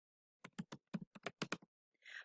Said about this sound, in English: So you can start typing just like you would type in any other document.